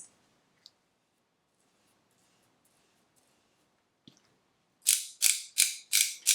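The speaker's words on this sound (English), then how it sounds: "And I'm just gonna crank up the foundation." A Maybelline 4-in-1 Glow foundation stick is twisted up, making a series of five sharp, close ratcheting clicks in an even rhythm after a few faint ticks and near silence, with no talk.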